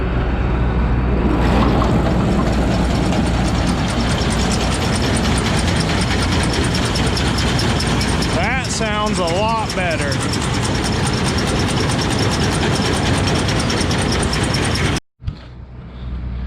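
A combine header driven by a PTO shaft churns continuously with a rattling, ratchet-like mechanical clatter; a brief voice cuts in near the end before the noise resumes.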